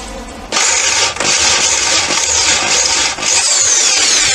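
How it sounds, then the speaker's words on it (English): A hand-held power drill whirs loudly and continuously, grinding through an aluminium plate with a harsh bright edge, pausing briefly a couple of times before running on. "I need to drill a hole in this"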